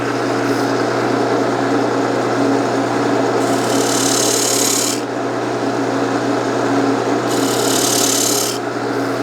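A wood lathe spins steadily while a tool cuts a tenon into the foot of a round-bottomed bowl, a continuous hum with two louder bursts of hissing, scraping cutting, close up with no talk.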